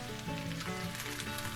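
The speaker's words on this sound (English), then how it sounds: "frying the chickens in butter" Chicken pieces frying in butter in a pan, a continuous close, even sizzle with crackling spatter throughout.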